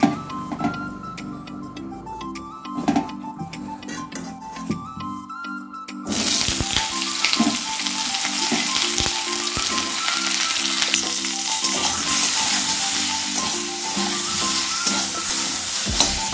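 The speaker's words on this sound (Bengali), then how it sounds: "কাঁচা কলাগুলো ভেজে নেবো লবণ হলুদ দিয়ে" Raw green bananas frying in oil with salt and turmeric, a steady close sizzle with light ticks and crackles that grows louder and brighter partway through, with no talking.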